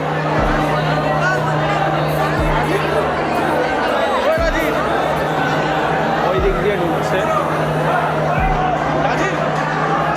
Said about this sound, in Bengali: দেখো, প্রচুর মানুষের ভিড়।